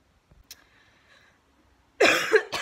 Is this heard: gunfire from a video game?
no